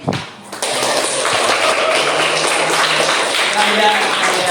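A classroom audience bursts into lively applause after a student presentation, sudden, loud and sustained clapping from many hands, with voices mixed in beneath it.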